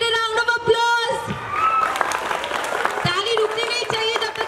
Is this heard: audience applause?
yes